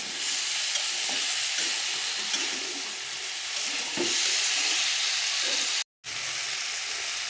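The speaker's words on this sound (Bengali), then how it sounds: "এবারে ভালো করে সব কষিয়ে নেবো একসঙ্গে।" Mixed vegetables and spices sizzle and are stirred steadily in a pan after a splash of water, with scraping and frying hiss running throughout and one brief cut-out.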